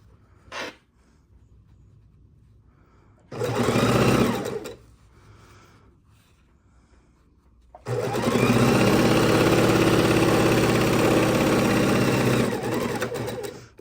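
A sewing machine runs a straight stitch through fabric scraps for scrappy log cabin quilt blocks, with a short burst of stitching followed by a longer, steady loud run of the motor and needle.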